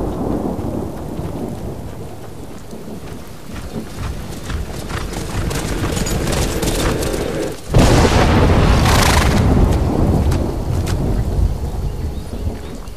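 Hoof clip-clop from a horse trotting in Skyrim amid a loud rumbling, stormy backdrop of thunder and rain, steady and dense throughout.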